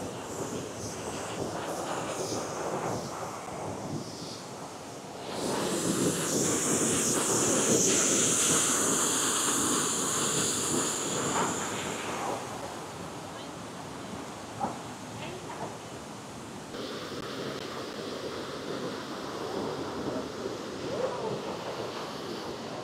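A large waterfall in Tasmania roars as a broad, steady rush of falling water, swelling louder midway with some wind buffeting the microphone, while a voice speaks over it in places.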